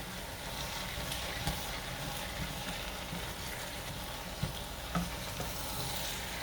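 Greens sautéing in fat in a pot: a steady, close sizzle and crackle of frying runs throughout at moderate level, with a few soft stirring knocks and no talking.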